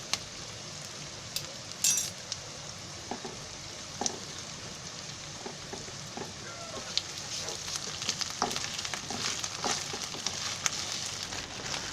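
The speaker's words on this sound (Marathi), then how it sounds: "कांदा जरा चांगला तेलामध्ये मरायला द्यायचं" Onion fries in hot oil with ginger garlic paste in an Indian home kitchen for a sprouted moth bean dish. A steady close sizzle and crackle runs throughout, with a few light clicks of stirring.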